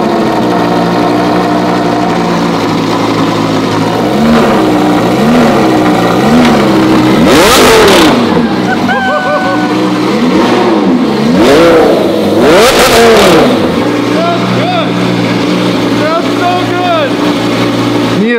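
A Lamborghini fitted with a $10,000 aftermarket exhaust revs loudly and up close, with several sharp rising-and-falling blips and bursts over a rumbling idle as people chatter around it.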